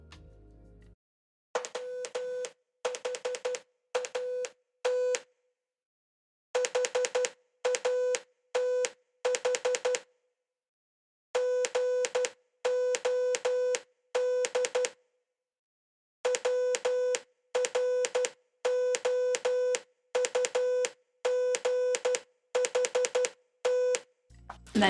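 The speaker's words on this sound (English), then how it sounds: "that is a modern recreation of those dots and dashes" Modern recreation of a Morse code telegraph message, the dots and dashes of the first message sent from the Supreme Court chamber in the U.S. Capitol to Baltimore: clear steady beeping tones in short and long groups, separated by brief silences.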